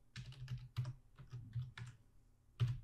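Computer keyboard typing in a quiet room: a steady run of soft, close key clicks in irregular bursts, with a few heavier keystrokes and no talking.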